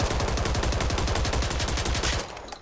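Rapid, fully automatic gunfire from a recoil-free weapon in the video game Back 4 Blood on PS4: a dense, steady stream of shots rattling along for over two seconds, then cutting off abruptly.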